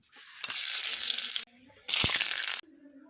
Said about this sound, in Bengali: কড়াইতে তেল গরম হয়ে গেছে, তেজপাতা, পাঁচফোড়ন, কাঁচামরিচ দিয়ে দেব